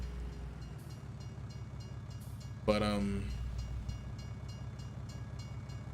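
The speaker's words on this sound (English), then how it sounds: "Oh, there's a train." A train passes in the video game Farming Simulator 19, rolling with a steady rhythmic clatter and a brief horn blast midway, while someone speaks a word over it.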